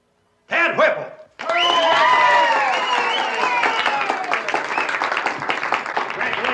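A 1963 small-town talent contest audience breaks into sustained, loud applause and cheering for the winner, following a brief burst of sound and a short gap, with whistles and shouts layered over the clapping.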